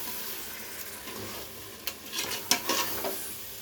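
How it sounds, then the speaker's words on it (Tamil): Yogurt being stirred into a cooking mixture in a pan, with a few quick spoon strokes and scrapes over a soft, steady sizzle, close and fairly quiet, no talking. "இப்போ தயிர் மிக்ஸ் பண்ணுறேன்."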